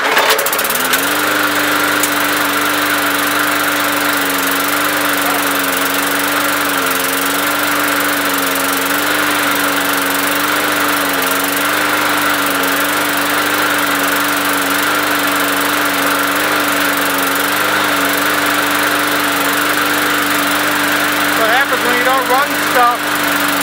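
A basic push lawn mower with an adjustable handle runs its engine steadily and loudly throughout, a constant droning hum with a slight wavering pitch and no pauses.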